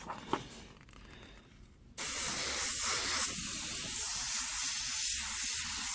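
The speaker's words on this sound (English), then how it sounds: "Don't be frightened to sketch with the airbrush a little bit" Airbrush spraying paint freehand while sketching fire graphics: a short quiet lead-in, then a sudden loud, steady hiss of air and paint that holds continuously and close by until the end.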